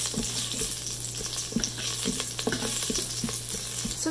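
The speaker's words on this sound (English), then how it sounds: "just give it a quick mix" Whole cardamom, cloves and a cinnamon stick are stirred in an Instant Pot for brown rice pilaf. Quick scraping stirs and small clicks sound over a soft fry, with a steady low hum beneath, close up and without voices.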